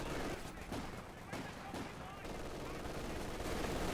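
Machine-gun fire rattles in Company of Heroes 2 as a fast, dense run of gunshot bursts that carries on without a break under a loud battle din.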